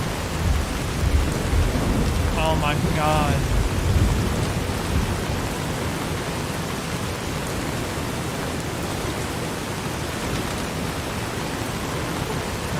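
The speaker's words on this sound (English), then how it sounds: "I forgot how loud this rain is." Heavy rain pours steadily in Fallout New Vegas, a loud continuous hiss with low rumbling thunder early on, while a person briefly exclaims over it.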